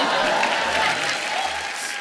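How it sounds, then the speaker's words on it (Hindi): Studio audience applause at a comedy talk show, a dense steady wash of clapping for about two seconds with little variation. "ये बजा दो यार, तालियां बजाओ"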